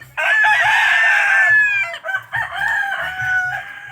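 A gamecock crows loudly and close by, one long drawn-out call followed by a second, with a low rumble beneath.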